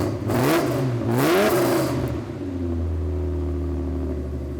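A Toyota Supra engine revs loudly twice in quick bursts, each rising and falling in pitch, then settles into a steady low rumbling idle.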